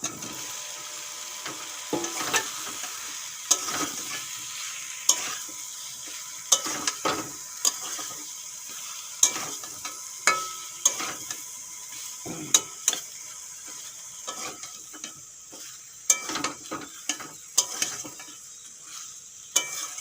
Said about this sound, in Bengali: কাঁঠালটা ভালো করে মশলার সঙ্গে মিশিয়ে নিয়েছি